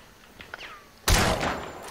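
Video game gunfire bursts in suddenly after a second of quiet, a loud crackling volley that rings out for the rest of the moment.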